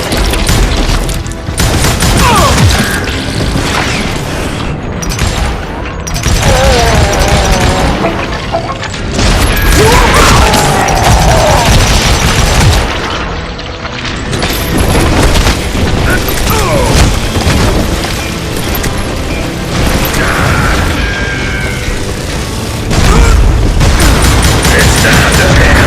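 Gunshots and loud crashing booms in the Western shooter Call of Juarez: Gunslinger, a busy, loud stretch of firefight noise with scattered impacts and bursts that continues throughout.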